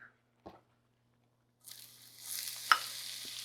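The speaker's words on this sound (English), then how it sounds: "so let's add in our onions" Chopped onions drop into a hot pan and break into a rising sizzle after a quiet start, with one soft knock just before and a sharp clatter partway through.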